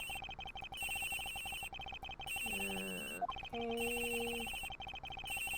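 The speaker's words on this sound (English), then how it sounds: "The ringing's coming from somewhere in here, sir." A telephone rings in the Ace Attorney Investigations video game, a repeating electronic bell that trills in steady bursts with short gaps, loud and close over soft game music and beeps, and a brief word spoken partway through.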